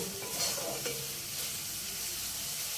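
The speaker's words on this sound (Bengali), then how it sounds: "ঢাকনা খুলে মশলাটা একবার নেড়ে নেব" Spice masala for a tangra fish curry stirred in a pan, oil and tomato cooked down, giving a steady hiss of frying with a couple of soft scrapes near the start, no voices.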